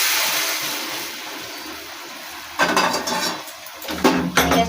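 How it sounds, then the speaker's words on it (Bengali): Boiled Maggi noodles are tipped into a pan, giving a sudden burst of clattering, sloshing pot noises after a quiet hiss, followed by more scraping metal knocks near the end. "ম্যাগিটা আমি এর মধ্যে ঢেলে দিলাম।"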